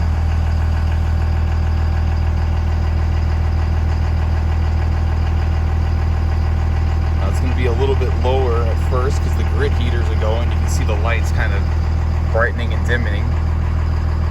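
A 1998.5–2002 Dodge Ram 2500 with a Cummins diesel idles steadily with a deep, constant rumble close by, while someone talks over it partway through.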